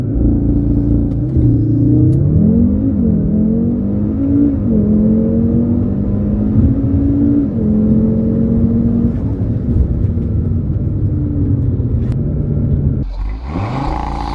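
An Audi RS3 fires off a launch-control start and accelerates hard, its engine pulling loud and close through rising revs and several gear changes before lifting off near the end.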